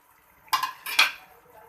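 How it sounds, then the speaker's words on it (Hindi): Chopped tomatoes drop into a pot of keema with a couple of quick, wet clattering thuds and a brief scrape against the metal, close and clear, followed by quiet. "अब हमने डाल दिया इसके अंदर चॉप टमाटर"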